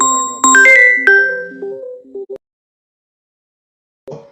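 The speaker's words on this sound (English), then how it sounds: "I'm not answering any phone call." A phone rings with an incoming call, giving a loud, close melodic ringtone of bright chiming notes. It stops after about two seconds and comes back in a short burst near the end.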